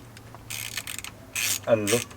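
A ratchet clicks in short rapid bursts while undoing intercooler bolts on a Vauxhall Astra VXR, three separate spells of loud ratcheting with brief pauses and a faint hum behind.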